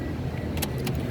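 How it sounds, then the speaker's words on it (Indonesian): Engine of a 2015 Toyota Rush 1.5 TRD Sportivo automatic idling steadily after starting, a loud close rumble with a couple of brief metallic clicks over it. "Sekarang kita coba start mobil ya."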